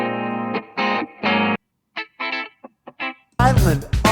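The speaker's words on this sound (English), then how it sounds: "Listen to this guitar, it's almost like a clean recording." A guitar part pulled out on its own by the Logic Pro 11.2 stem splitter, sounding as sustained, effect-laden chords in separate bursts with short gaps, then a brighter, louder strum near the end.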